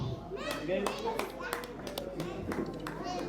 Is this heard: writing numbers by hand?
no